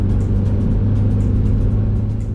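A 1.9-litre four-cylinder BMW Z3 convertible engine holds a steady, loud, throaty drone close by, with no one speaking over it.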